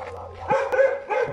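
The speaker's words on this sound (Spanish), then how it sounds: "Uy, perro." On a road in Costa Rica, a dog gives a short run of close, yelping barks that rise and break off within about a second.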